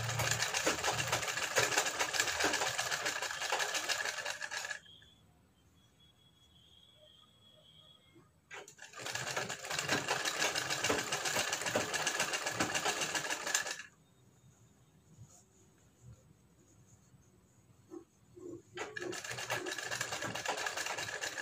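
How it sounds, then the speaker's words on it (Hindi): A sewing machine runs in three steady, buzzing bursts while stitching a U-neck collar, each run lasting several seconds and separated by quiet pauses with faint background hum. "इस तरीके से हमें पूरे को पकड़ कर सिलाई कर लेना है।"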